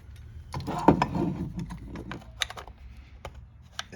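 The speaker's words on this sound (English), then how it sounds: "rotate a few degrees until it locks into position on the ears on both sides" A Triumph Spitfire gearbox shifter retaining plate is pressed down over nylon and metal bushings and twisted into its locking ears, giving close, scattered metallic clicks and a short clunk with faint rattling, and no voices.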